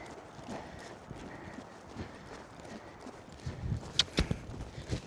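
A ridden horse's hooves clip-clop in a steady walking rhythm on the ground, growing louder and sharper near the end over low background noise.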